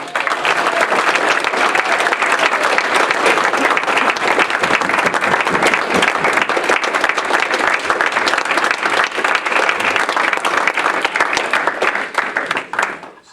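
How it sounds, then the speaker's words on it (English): A crowd at an Eagle Scout Court of Honor gives sustained, loud applause for a newly named Eagle Scout, dense clapping filling the room steadily for over twelve seconds before tapering at the end. "We're going to give him a big round of applause."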